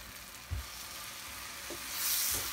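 Chili powder and tomato pieces sautéing in a pan over medium flame for a fish curry, giving a steady soft sizzle with a few stirring scrapes, close and fairly quiet.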